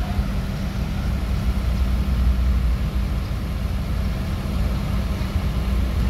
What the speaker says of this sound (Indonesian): Kayaknya ada bus masuk juga nih